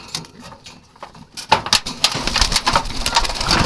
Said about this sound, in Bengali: খুবই চঞ্চল প্রকৃতির কবুতর